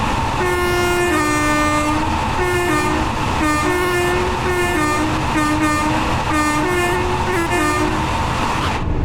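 Class 801 Azuma train on the East Coast Main Line in Train Sim World 4, running with a steady loud rumble while its two-tone horn sounds repeatedly in short and long blasts.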